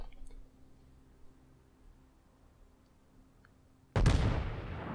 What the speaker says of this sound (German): Kommt hier mit den vorderen Kanonen drauf, schießt aber nur einen Schuss auf die Amagi